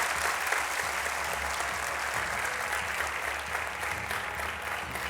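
A studio audience at a Got Talent show claps steadily, a dense even wash of applause heard alone without talk.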